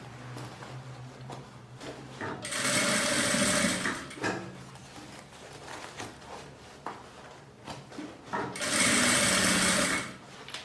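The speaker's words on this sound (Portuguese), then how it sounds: "Costura a volta toda, prendendo o forro aqui na parte de fora." A sewing machine runs in two loud sustained bursts, stitching the lining all the way around a zippered pouch, with quieter handling sounds between the runs.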